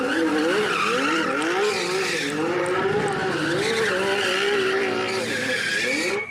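Sports car skidding, a long sustained tire squeal with wavering pitch over engine roar, loud and steady for several seconds before cutting off.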